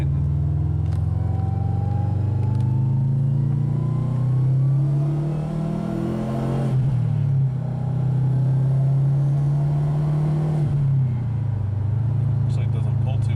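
A 2012 Subaru WRX with a muffler delete, stock cats and stock piping revs up and settles in steady, droning pulls, loud and close, with people talking over it.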